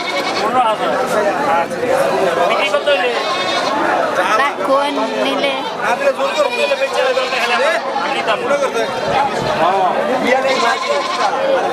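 Goats bleat repeatedly at a busy cattle and goat market in Gazipur, loud and close, mixed with constant crowd chatter and people talking.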